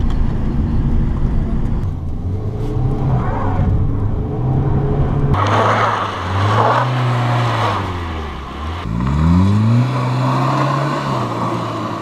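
A car rolls along a snowy mountain road with snow chains fitted, a steady engine drone and low rumble carrying a loose, noisy rattle from a chain that flaps around, with engine pitch rising and falling throughout.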